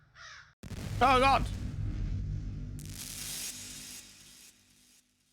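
Crows caw loudly in a harsh, wavering burst in SENSE: A Cyberpunk Ghost Story, over a low rumble and later a hissing noise, with a person exclaiming partway through.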